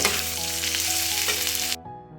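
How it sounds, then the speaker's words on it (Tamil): Leftover chicken being sautéed for a street-style shredded chicken kothu fry: a loud, close, steady sizzle and crackle in the pan, cutting off abruptly near the end to leave a low hum. "போட்டு நல்லா சுருள சுருள சுருள சுருள வதக்கிக்கலாம்"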